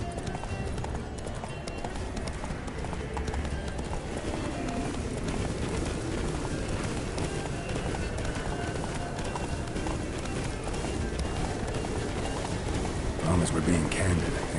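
Roach, the horse in The Witcher 3, gallops with a steady clip-clop of hooves under game music and ambience. Voices talk over the hoofbeats throughout.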